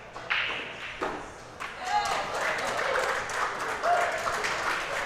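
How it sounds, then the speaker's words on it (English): Audience applause breaks out at a team pool match between Los Angeles and San Diego, a steady wash of clapping that swells and holds while a commentator keeps talking over it. "Round of applause."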